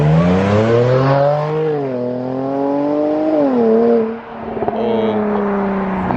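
A Jaguar F-Pace S with an aftermarket exhaust revs hard, its loud, close engine note rising and falling through several sweeps before briefly dropping and then surging again.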